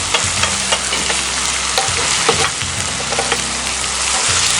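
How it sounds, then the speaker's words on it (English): Shrimp and canned tomatoes sizzling loudly in a cast iron pan, a dense, steady frying hiss broken by frequent scraping and clacking as they are stirred and turned, close up with no voices. "we want to keep those turning, but we want to try to caramelize the tomatoes also"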